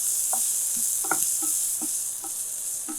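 Onions sauté in a pan for tomato sauce, a soft steady sizzle with a few scattered light stirring taps, fairly quiet and with no talk.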